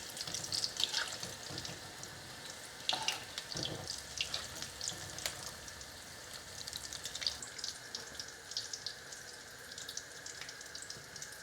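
Gram flour batter balls crackle and sizzle steadily in hot oil, with sharp spitting pops over a bright bubbling hiss while vada pav is made; no one speaks.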